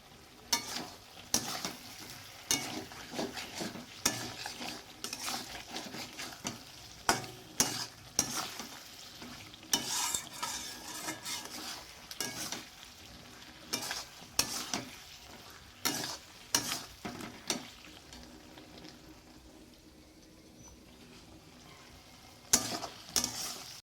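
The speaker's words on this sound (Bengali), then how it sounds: "চলো মাছটা ভেজে নিই" Fish frying in a pan gives a low, soft sizzle under frequent clattering scrapes and knocks of a spatula or utensil against the pan, irregular and close, with no talking.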